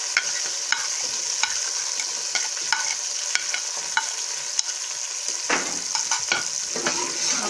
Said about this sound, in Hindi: अब इसमें हमारा मटर थोड़ी देर फ्राई हो चुका है।